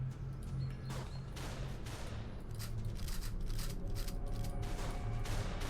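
Rifle gunfire sound effect plays during a Walking Dead tabletop RPG session, a dense rattle of rapid shots that runs steadily from start to finish at moderate volume.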